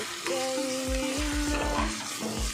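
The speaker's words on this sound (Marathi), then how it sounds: "अशी आलं लसूणची पेस्ट माझ्याकडून फ्राय करून झालेली आहे" Ginger garlic paste fries in a pan for chicken biryani, a soft steady sizzle under a faint tonal hum, with a series of low rhythmic knocks like stirring against the pan.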